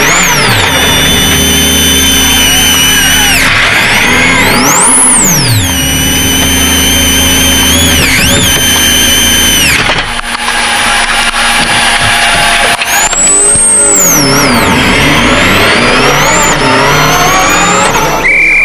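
A Subaru rally car with broken power steering drives a snowy WRC Sweden 2006 stage, its engine loud and close, revving up and down through gear changes with a steady roar.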